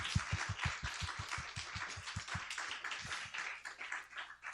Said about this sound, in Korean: 우리 감사의 박수 보내주시기 바랍니다.